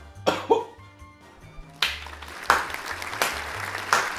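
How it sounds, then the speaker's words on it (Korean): A handful of sharp, separate hand claps ring out during a mukbang of a halved pink-fleshed pineapple. The claps come irregularly, close and fairly loud, over a low steady background hum. "먹방하면서 박수 나온 적은 처음이야"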